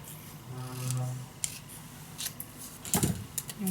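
Scissors snip through strips of scrapbook paper for a handmade mini album, giving a few sharp, close cuts spaced unevenly over a soft background with no talking.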